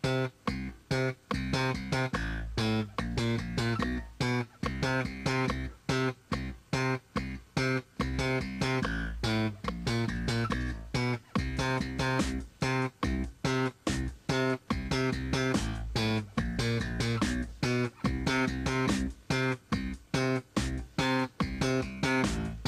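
Piano exercise with a bass part under a rhythmic right hand mixing long and short tones: a steady, dense stream of struck notes and chords, loud and close, running unbroken without voices.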